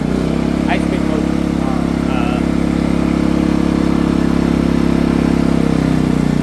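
A portable generator runs in high speed mode with a loud, steady engine drone throughout and some faint background noise over it.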